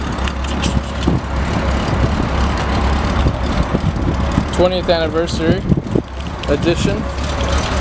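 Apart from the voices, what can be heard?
1995 Honda Goldwing GL1500 motorcycle engine idling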